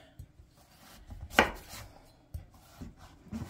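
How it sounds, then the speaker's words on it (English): A knife cuts butternut squash into small one-inch cubes on a board, making a few close, firm chops with one sharp, loud strike in the middle and softer taps around it. "you're going to cut it up into like little 1-inch cubes"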